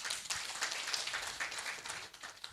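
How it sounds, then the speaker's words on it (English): Steady crowd applause, many hands clapping together in a dense, continuous patter at moderate distance, without voices. "Please, let's clap for Wafuko."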